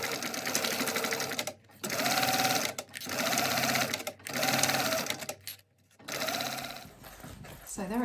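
Sewing machine stitches a backpack's exterior and lining together in one pass at a quarter-inch seam, running in several steady bursts separated by short pauses, close and loud.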